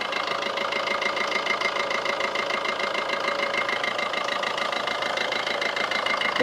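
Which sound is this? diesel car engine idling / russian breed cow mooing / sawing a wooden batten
diesel car engine idling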